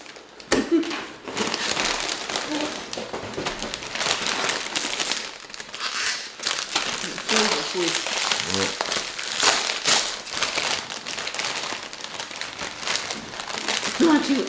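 A party-pack bag of baby crumbly chips crinkled and rustled close up, loud and continuous for several seconds, with voices talking over it.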